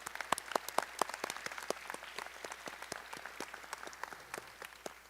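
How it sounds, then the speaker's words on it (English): Commencement audience applauding professors and faculty at the University of Utah Asia Campus, a sustained patter of many hands clapping in a hall, moderately loud and steady, fading slightly at the end. "Let's give them a big round of applause"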